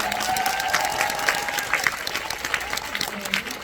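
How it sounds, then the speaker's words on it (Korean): Dense applause from a crowd at a film screening Q&A with an EXO member, steady clapping filling the room, with a voice faintly audible beneath it. "박수 부탁드립니다"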